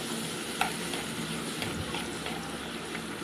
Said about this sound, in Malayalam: അതിലേക്ക് കുറച്ച് വെളിച്ചെണ്ണ ഒഴിച്ചു കൊടുക്കുന്നുണ്ട് പിന്നെ അതിലേക്ക് വെളുത്തുള്ളി ഇഞ്ചി പേസ്റ്റാണ് ചേർത്ത് കൊടുക്കുന്നത്